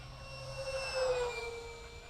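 The electric ducted fan of a Tech-One Neptune RC wing whines past in flight outdoors at roughly half throttle, thin tonal whistles over a soft rushing hum that swells briefly and eases, moderately distant and faint.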